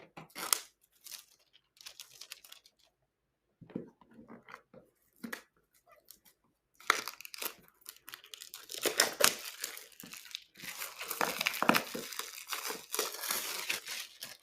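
Plastic wrapper around an Insta360 X4 action camera is torn and crinkled open up close, starting with scattered rustles and building into sustained loud crackling and ripping.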